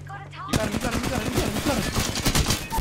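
Rapid gunfire from Apex Legends, a dense run of overlapping shots that starts abruptly and keeps going, loud and close, with voices talking over it.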